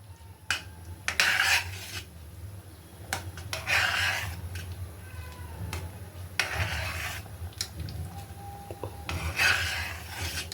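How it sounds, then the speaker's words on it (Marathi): Lapshi kheer made of broken wheat and jaggery stirred in a pot, with repeated scraping and rasping strokes of a spoon against the metal in an uneven rhythm, close and moderately loud. "परत आपण खीर व्यवस्थित ढवळून घेणार आहोत"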